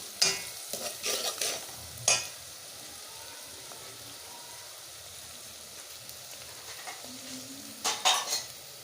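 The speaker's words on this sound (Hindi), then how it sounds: "इसको बस थोड़ा सा भूनना है हल्का सा" Spices frying in a pan for turnip bhujiya, with a few sharp scrapes and stirring clatters at the start and again near the end, over a faint steady sizzle; no voices.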